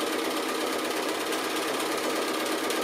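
A sewing machine stitches steadily along a drawn line on light-coloured fabric with dark thread, giving a continuous, even mechanical whirr close up with no pauses and no talking.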